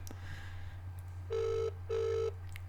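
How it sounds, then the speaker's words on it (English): Two rings of a telephone on an outgoing call to a local radio show, each a steady electronic burble lasting about half a second, separated by a short pause over a low constant hum. "Ringing."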